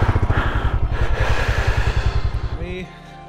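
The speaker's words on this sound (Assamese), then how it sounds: "বাইকখন ৰাখি লওঁ" A motorcycle being parked, its engine idling with a steady, throbbing putter close by before it cuts out, followed by a brief voice and quiet.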